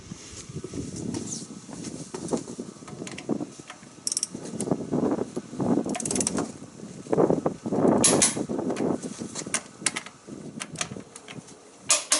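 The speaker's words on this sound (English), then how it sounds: "Now I'll lower the vehicle and torque both wheels." Jeep Wrangler JK being lowered and its wheels torqued to 95 foot-pounds, with irregular mechanical clicks, ratcheting and clunks, close and moderately loud, with no talking.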